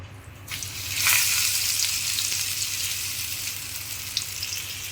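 Steady, bright frying sizzle with a crackling hiss that swells after a second and holds evenly, close by, with no voices, as semolina-coated stuffed pomfret fries on a griddle.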